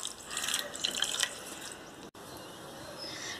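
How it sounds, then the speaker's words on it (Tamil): A short splash of water pours into a pan of sugar for syrup, a bright trickle lasting about a second, followed by a soft, steady background hiss. "1 கப் சுகருக்கு நம்ம 1/2 கப் தண்ணி ஆட் பண்ண போகிறோம்."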